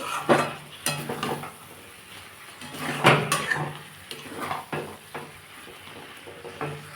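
Fried cauliflower stirred in a hot pan, with irregular scraping and clattering strokes of a spatula over a soft sizzle, each stroke loud and close.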